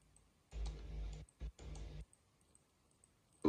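A few short, close clicking and rattling bursts come from a button on a Yaesu FT-710 radio's hand microphone, set against a quiet background.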